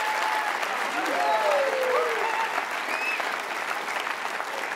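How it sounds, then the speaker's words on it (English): An audience gives a sustained round of applause at an evening event on the resurrection, with dense even clapping and a few faint whistles and voices. "Let's give him a round of applause and thank him for all his hard work."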